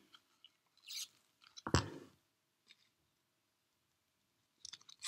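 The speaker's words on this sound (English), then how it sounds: "you can cut the wire" Pliers with a small built-in cutting blade snip through wire, giving a sharp, close metallic click with a brief crunch, surrounded by a few faint handling ticks and light rustles.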